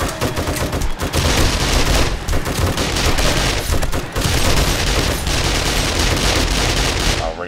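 Dense, continuous gunfire in 7 Days to Die with the Darkness Falls mod during a zombie horde night, rapid loud bursts and volleys running almost without pause throughout.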